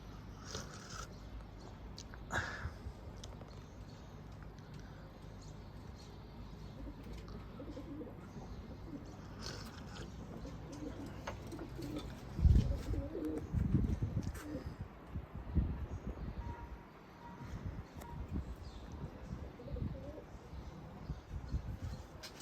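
Pigeons at their coop give soft, low coos at a distance, faint against a quiet outdoor background, with a brief bump of handling noise midway.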